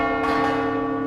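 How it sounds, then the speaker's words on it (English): Clock tower bell ringing across the streets, a single sustained resonant tone with rich overtones, loud and ringing on without decay over the short stretch. "When the bell rang across the streets, thousands of people heard the same message."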